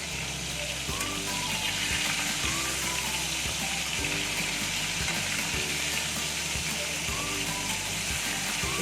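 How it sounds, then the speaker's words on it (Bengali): Hilsa fish heads frying in hot oil in a home kitchen, turned to cook the second side, give off a steady, dense sizzle and crackle that runs close and continuous throughout. "আরেক পিঠটা ভেজে নিচ্ছি"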